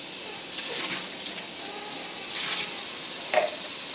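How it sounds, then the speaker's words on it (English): Tap water runs and splashes while a soapy baby sippy cup is rinsed out after cleaning with a bristle bottle washer. The rushing, hissy flow rises and falls in uneven bursts, close and fairly loud, with no speech. "It's all nice and soapy inside, and then you just rinse it out."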